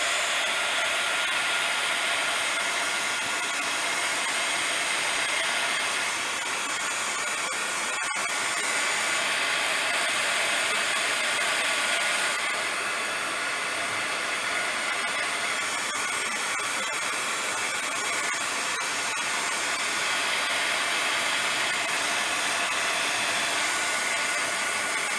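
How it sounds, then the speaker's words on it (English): A heat tool blows hot air to dry stamped ink on paper, a loud, steady, broadband whoosh holding constant for the whole stretch with no voices over it. "I'm going to give it a quick shot with my heat tool."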